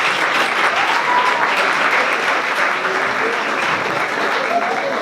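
A crowd at an expert panel on coronavirus at the Instituto Nacional de Salud gives steady, full applause, loud and even throughout with no break.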